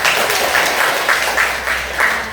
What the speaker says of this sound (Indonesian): Ya, bagus. Beri tepuk tangan.